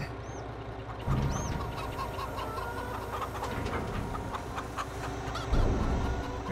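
Chickens cluck repeatedly in a farm yard in the video game Farming Simulator 22, with soft scattered clucks and a couple of louder calls over a low steady background hum.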